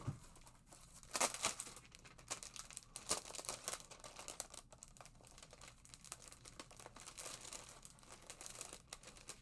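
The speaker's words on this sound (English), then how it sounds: "Let me grab some paper here." Paper is grabbed and handled in quick bursts of crinkling and rustling, with sharp crackles and soft taps scattered across several seconds, close but quiet.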